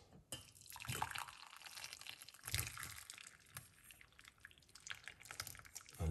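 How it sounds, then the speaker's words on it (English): Banana peel tea is poured into a cup, a soft liquid trickle with small splashes and drips, quiet and close, rising and falling over several seconds. "let's pour it out"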